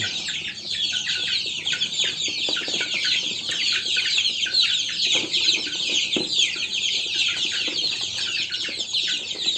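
Several free-range village chickens cluck and chatter continuously at close range, hungry for a late feeding, their busy overlapping calls forming a steady, restless flock sound with no talking.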